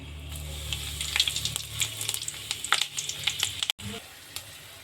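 Curry leaves sizzling in hot oil for a homemade hair oil, with dense crackling and popping close by, then a brief dropout before the steady frying resumes.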